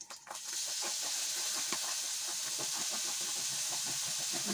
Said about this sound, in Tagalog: nilagay ko na itong minced pork na namarinate ko ng soya sauce at saka pepper